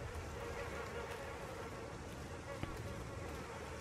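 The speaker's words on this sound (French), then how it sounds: "bah là il y a des mouches, mais ça me sert à rien" Flies buzz continuously in the video game Little Nightmares II, a faint, steady insect drone that holds for several seconds, with no talk over it.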